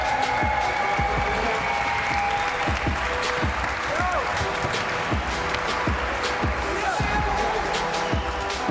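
Crowd at the Simple Session 2022 skateboarding competition finals applauding the competitors, a steady dense wash of clapping and cheering that holds through the whole stretch, with a voice over a loudspeaker and a few low thumps mixed in.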